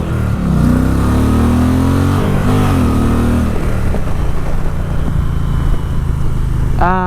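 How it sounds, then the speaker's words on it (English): An Indian Challenger motorcycle on its stock exhaust revs up, the deep engine note climbing and falling in pitch through several throttle blips, loud and close, with a sharp rise near the end. "The stock exhaust sounds pretty decent, actually."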